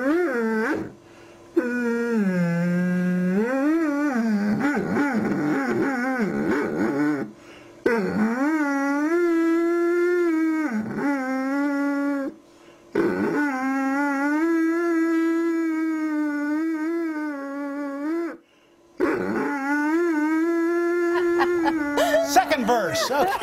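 A Doberman Pinscher howls in long, wavering, song-like tones, sliding up and down in pitch across several sustained phrases separated by brief pauses, close and loud throughout.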